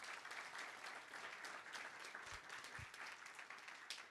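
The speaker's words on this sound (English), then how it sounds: "A big applause to everybody here." Audience applause at a conference session on connected and automated mobility, a dense steady clapping from many hands filling the room, fairly distant and even throughout.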